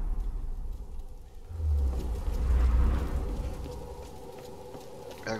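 A thunderstorm rumbles in Tomb Raider 2013, a low, distant roll of thunder swelling through the middle and fading away over steady ambient noise, with no voices.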